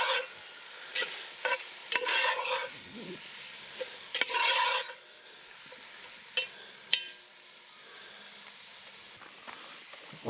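Fish and onion are stirred in a camping pan over heat: intermittent scraping strokes of a utensil against the metal over a faint background sizzle, with quieter pauses between bursts.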